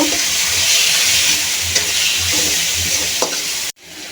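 Green chili paste sautéing in a hot pan with ginger paste, a steady close sizzle broken by scraping stirs, ending in a sudden cutoff.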